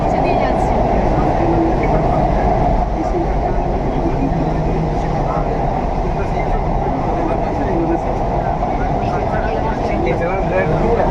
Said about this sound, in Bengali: Indian first under water metro